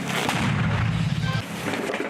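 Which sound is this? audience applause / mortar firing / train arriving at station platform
mortar firing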